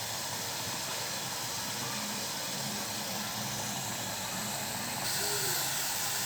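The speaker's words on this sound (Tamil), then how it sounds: "நல்லா பொன்னிறம் ஆகிற வரைக்கும் நல்லா வதக்கி எடுக்கணும். இது கொஞ்ச நேரம் வதங்கட்டும்." Onions sauté in a pan, cooking toward golden brown for a Kerala-style mutton pulao gravy. A loud, dense, steady hiss of frying continues throughout without a break.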